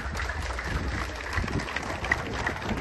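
An audience at a gathering of Haitian pastors applauds with a continuous, fairly loud wash of clapping over a noisy room. It sounds steady and even throughout.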